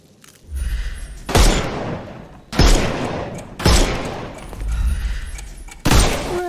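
Gunfire in Sherlock Holmes Chapter One cracks out as five loud, separate shots about a second apart, each a sharp blast with a short booming tail, shooting the armour off enemies.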